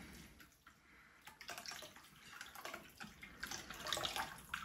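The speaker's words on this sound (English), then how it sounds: "And we just pour them together" Prosecco and liquor are poured together for a Death in the Afternoon cocktail, making a quiet, close trickle of liquid with faint fizzing and splashes.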